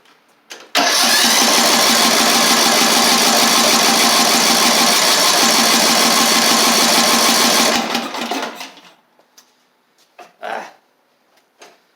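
A Craftsman LT3000 lawn tractor engine with a bad carburetor cranks and runs loud and close for about seven seconds, a rough steady drone, then sputters and dies, leaving a few scattered knocks.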